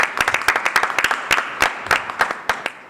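A live audience applauds at an awards finals event, dense overlapping claps with sharp individual hits rising and falling in a steady, lively wash over about three seconds.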